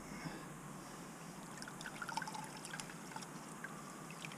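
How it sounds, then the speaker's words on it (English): Water trickles and splashes faintly onto a microfiber towel being wetted for car interior cleaning, a low steady hiss with small dribbling spatters, quiet and close. "first you gotta wet down the towel"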